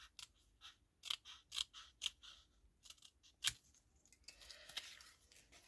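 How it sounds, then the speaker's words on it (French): Scissors cutting paper into strips, a series of sharp close snips coming at an uneven rhythm, followed by softer rustling of paper, quiet with no talk. "Je vais d'abord les découper en bandes"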